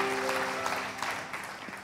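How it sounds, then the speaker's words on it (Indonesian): A church congregation at a worship service gives a warm round of applause, a dense, steady wash of many hands clapping throughout, with a low sustained tone underneath. "Beri tepuk tangan yang meriah buat Tuhan."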